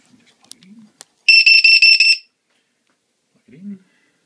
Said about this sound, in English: It beeps rather loudly when it gets down, and this one's got the little button under here that you can actually set the alarm voltage